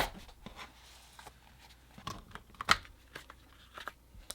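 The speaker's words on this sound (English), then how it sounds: "Opening the retail packaging, you get a very satisfying clicking noise." Apple MagSafe leather case retail packaging gives off scattered soft clicks and paper rustles while being opened, with one sharper click standing out in a quiet room.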